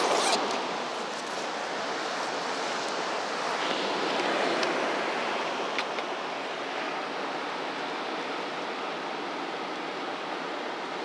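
Ocean waves wash onto a beach at a coastal sunset spot, a broad, continuous hiss of surf that swells gently and fades, heard alone with no talking.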